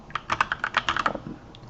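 Typing on a computer keyboard while entering a spreadsheet formula: a quick run of close, crisp key clicks, about a dozen strokes in under two seconds, with no talk.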